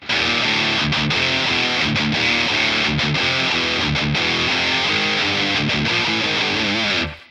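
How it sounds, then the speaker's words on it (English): Heavily distorted electric guitar, using a Fat Distortion effect on a Boss Katana amp, chugs and rings out continuously, thick and saturated, with brief rhythmic cuts before stopping abruptly near the end. "Going over the booster, I'm using the Fat Distortion."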